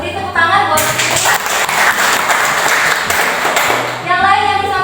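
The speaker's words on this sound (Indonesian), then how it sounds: "Beri tepuk tangan buat Fitri." Students in an Indonesian classroom clap together for a classmate in a dense burst lasting several seconds, with a teacher's voice briefly heard before and after.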